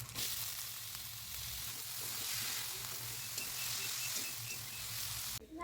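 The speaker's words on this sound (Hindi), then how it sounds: "तो ये पराठे मैं सेक रही हूँ घी लगा के" Ghee-brushed parathas frying on a hot pan give a steady, close sizzle with a continuous crackling hiss throughout, uninterrupted by any talk.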